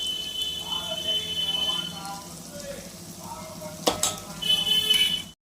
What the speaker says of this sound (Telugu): మటన్ ముక్కలు వేసుకున్నామమ్మా.